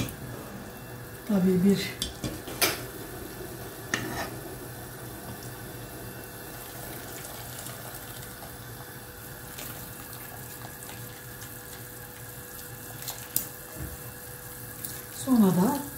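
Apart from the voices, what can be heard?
washing food in cold water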